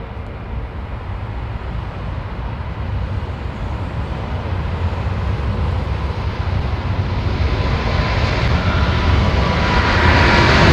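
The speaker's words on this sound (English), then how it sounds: "Clear for takeoff, 27 right" A jet airliner takes off from runway 27 right in calm winds, its broad engine roar steady and gradually swelling louder across the whole stretch, with no voices.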